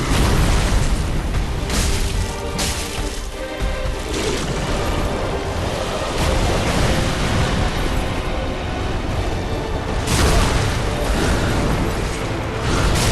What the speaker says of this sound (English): so that's actually why I'm using these fire bombs